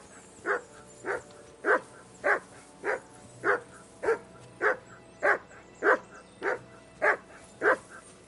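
Mutt, a dog in Kingdom Come: Deliverance II, barks in a steady run of about a dozen evenly spaced, loud, close woofs over a faint ambient bed.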